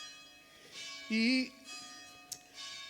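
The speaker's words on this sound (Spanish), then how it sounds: "vamos a sonar la campana" A bell is struck once on stage at a festival talk, a brief bright ring lasting about half a second amid a buzzing background and scattered voices.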